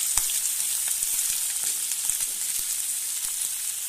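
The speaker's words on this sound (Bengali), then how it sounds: "এর মধ্যে কেটে রাখা টমেটোগুলো দিয়ে দেবো" Chopped tomatoes fry in a spice mix for fish curry, producing a constant close hissing sizzle with occasional small pops and crackles throughout.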